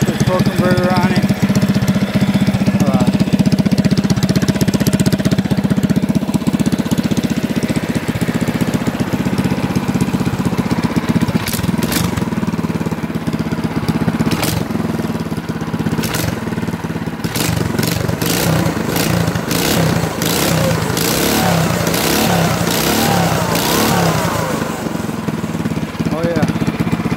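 A 2018 Coleman CT200U mini bike fitted with a torque converter and custom exhaust runs steadily, its loud engine drone continuous throughout, with some knocking texture and sharper mechanical ticks in the later part.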